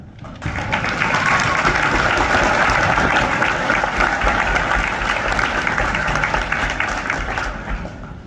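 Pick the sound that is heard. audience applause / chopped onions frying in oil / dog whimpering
audience applause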